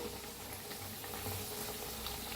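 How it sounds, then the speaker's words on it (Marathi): Pumpkin pieces fry in hot oil with a steady, soft, even sizzle and light bubbling, continuous and fairly close, with no voices. "दोन्ही साईडने असं छान तळून घेऊया"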